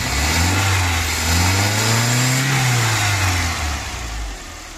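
A Mercedes W124 engine, freshly converted from carburetor to fuel injection and running without an air cleaner or tuning, revs up and settles back in a loud, close, steady rise and fall.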